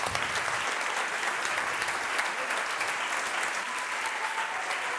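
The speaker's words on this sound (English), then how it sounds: "That's the part where you applaud, please." A conference crowd applauds steadily for keynote speaker André Schwämmlein of Flixbus at the Entrepreneurship Avenue 2015 event, a thick, even wash of clapping lasting throughout with no pauses.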